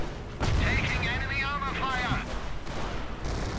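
Gunfire and artillery booms from a World War II tank battle video game, Cromwells against Panzers, sound as sharp bursts and a heavy blast, with someone talking excitedly over them.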